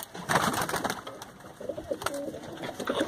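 Pigeons in a fancier's breeding loft in Delhi give low, repeated cooing calls, with an especially clear run partway through over rustling and shuffling noise, and no talking.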